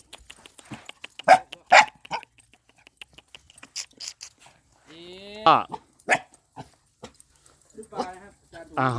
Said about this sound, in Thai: เห่าดีขนาดนี้เลย